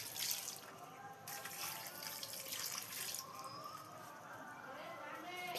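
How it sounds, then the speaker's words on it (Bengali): Water runs and splashes steadily while plants are watered outdoors, a soft, continuous trickling stream, with someone talking over it. "আমি আরো গাছে জল দিয়ে নিই।"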